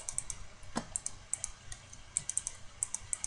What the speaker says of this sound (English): So much clicking